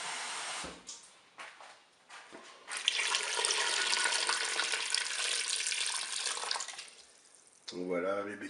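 Water pours into a Cookeo electric pressure cooker pot over beetroots, a steady rushing splash lasting several seconds after a few short clatters, with a brief voice at the end.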